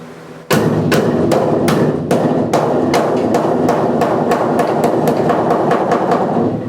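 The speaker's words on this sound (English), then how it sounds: "So as I'm hammering on this, I'm using a little downward pressure" A hammer beats sheet metal being roll-formed around a 1986 Chevy C-10 cab corner during rust repair, about a dozen sharp ringing strikes landing at a steady, quickening pace, loud and close.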